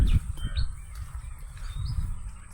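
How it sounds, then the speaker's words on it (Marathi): Several short bird chirps, including kingfishers, ring out outdoors against a low rumbling background, scattered and moderately faint. "मला पक्ष्यांचे आवाज येतच असतील"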